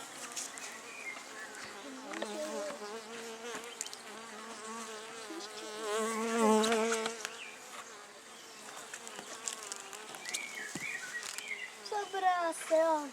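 Bees hum around a top bar hive in a dense, continuous buzz, close and fairly loud, with individual insects droning past and voices talking quietly underneath.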